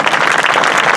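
Audience applause at a community dedication, a brief, steady wash of many hands clapping, fairly close and loud.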